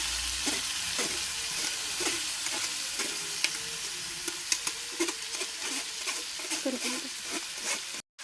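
Dal tossed into hot ghee for puran fries and sizzles while a spoon stirs it, with scraping and soft clinks over a steady close hiss and no talking.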